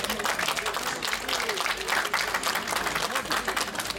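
An audience at the opening gala of an agricultural and animal exhibition in Sitno bursts into dense, sustained applause, many hands clapping continuously at close range.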